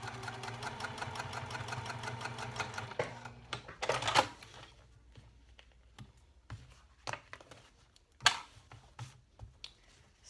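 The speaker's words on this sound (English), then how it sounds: "I'm going to top stitch just under card slot 5." A sewing machine runs a rapid, even top stitch across a wallet's card slot panel for about three seconds, then stops, followed by scattered clicks and handling noises.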